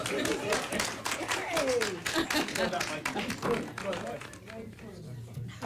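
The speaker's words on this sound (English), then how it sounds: "Y'all give it up, round of applause." An audience at a school board meeting breaks into a round of applause, dense clapping filling the room while voices and cheers mix in, thinning out toward the end.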